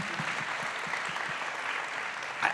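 A crowd at the Global Citizen Now event applauds, a soft steady wash of clapping with a few distinct claps and a brief cheer near the end.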